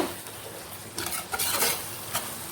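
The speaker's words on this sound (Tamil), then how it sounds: "இப்போ நம்ம வேக வச்சு எடுத்து வச்சுருக்கிற குடலை இதில் சேர்த்துறோம்." Boiled goat intestine stirred into sizzling curry masala for kudal kulambu, with a few scraping strokes of a spoon against the pan over a steady frying hiss, close up.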